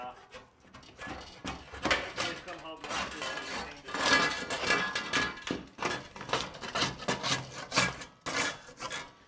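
A small hand scraper rasps repeatedly across a surface during a home renovation, making quick rhythmic scraping strokes close to the mic while people talk over it.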